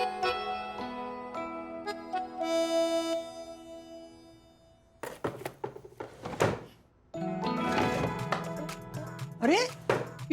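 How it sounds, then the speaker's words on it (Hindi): A cupboard door bumps and knocks open with a few short wooden thunks, heard between stretches of background music and people talking. "अरे ये तो मेरे कबर्ड खुलने की आवाज है।"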